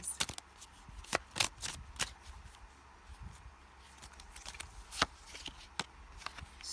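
Tarot cards are shuffled and drawn in a run of crisp riffling flicks and soft slaps, close and fairly quiet, with short pauses between bursts and no voice.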